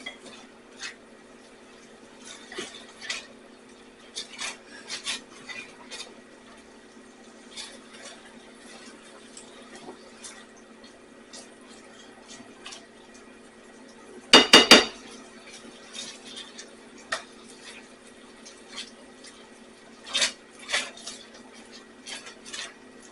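Honey chipotle sauce stirred in a pot with a utensil, soft scraping and clinking taps at uneven intervals over a steady low hum, with one sharp cluster of metallic knocks midway.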